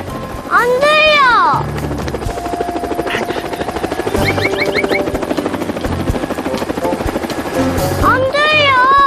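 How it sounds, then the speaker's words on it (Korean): A helicopter flies with a steady, loud whirring drone that runs through the whole stretch, heard alongside cartoon-like sliding tones and children's voices talking over it. "헬리콥터 날아다니는 거 신기하지?"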